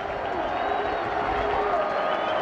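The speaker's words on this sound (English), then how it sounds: "Crowd's getting into it." Stadium crowd at a 2007 Tulsa vs Marshall college football game, a steady dense roar of cheering throughout, with a voice talking over it.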